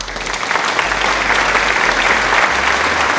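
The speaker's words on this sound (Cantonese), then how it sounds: "多謝師兄俾掌聲" A watch-channel audience applauds in a steady, dense wash of clapping that holds at full level for about three seconds, with no talk over it.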